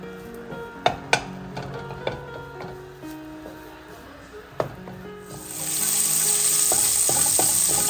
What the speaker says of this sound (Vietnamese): sau đó sẽ đem giã nhuyễn và đem đi xào sơ trên chảo để cho tôm được tơi ra